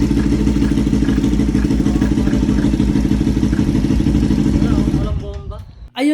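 Big bike motorcycle engine with one spark plug removed, running loud and clattery close by, then dropping off after about five seconds to near quiet, with a voice speaking at the end.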